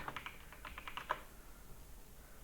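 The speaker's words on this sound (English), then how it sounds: "Let's just go to Google and type Sublime Text." A short burst of quick keystrokes on a computer keyboard, fairly quiet and close, followed by near silence; no speech.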